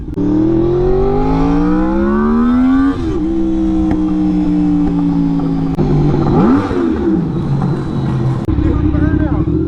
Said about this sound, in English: You do a burnout.